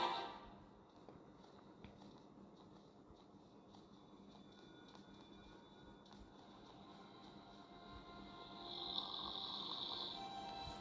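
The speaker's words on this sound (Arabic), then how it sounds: "ده نايم، حد نايم فوق بيشخر" Faint, slow snoring from a sleeping character upstairs in the horror video game Granny, low and distant beneath a quiet droning background hum.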